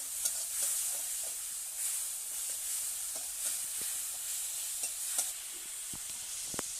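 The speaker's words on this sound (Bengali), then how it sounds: "এবার এটা ভালো করে কষানো হবে" A potato and egg mixture seasoned with salt sautés in a pan over a wood fire. A bright, steady sizzle hisses throughout, broken by soft scraping stirs and occasional clicks of the utensil, and no voices are present.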